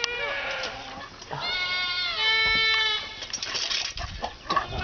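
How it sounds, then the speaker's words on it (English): Goats on a farm bleat loudly and repeatedly, several overlapping wavering cries close by, with a brief spoken exclamation from a person among them. "Goats, huh?"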